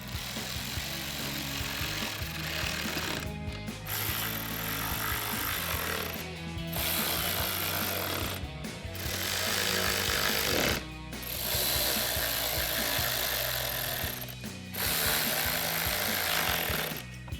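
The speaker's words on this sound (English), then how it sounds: "Now we'll use our 7mm socket to tighten them all down." Bolts on a 2015-2017 Mustang bumper tightened with a 7mm socket ratchet, loud repeated rapid clicking in long bursts separated by brief pauses, close and without speech.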